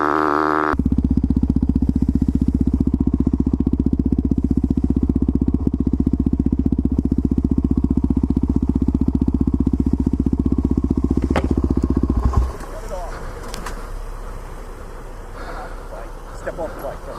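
A motorcycle engine idles loud and close with a steady rumbling throb for about twelve seconds, then cuts off, leaving quieter background noise. Voices are heard in the scene.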